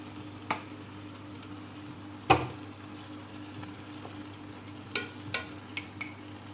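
Mutton frying for biryani in a pan, a quiet steady sizzle broken by a few sharp spoon scrapes and stirring clatters, close by, with no talking.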